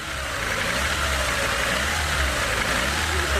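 A car engine converted to run on compressed gas idles steadily and close by, a continuous low rumble with a slight rough knock throughout.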